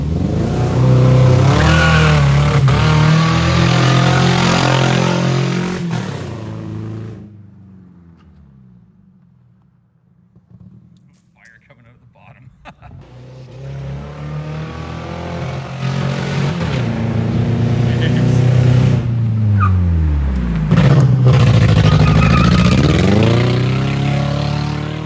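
A cheap used car's engine roars and revs hard, loud and close, dropping away to near silence midway before climbing back to a strong, sustained rev.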